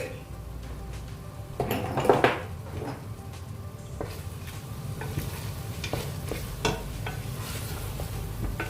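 Chicken fries in a pan as garam masala is stirred in, a constant close sizzle with scraping stirs and a louder clatter of the spoon against the pan partway through.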